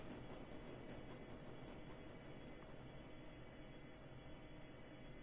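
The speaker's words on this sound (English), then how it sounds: "The train comes to a halt and the doors open." A subway train from Shadowrun Dragonfall gives a constant low rumbling roar with a faint rattle, steady and unbroken, with no talk.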